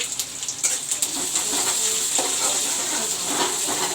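Onion and green chili fry in a pan for moong dal and kundru bhaja, giving a steady close sizzle with crackling spatters throughout and no talk.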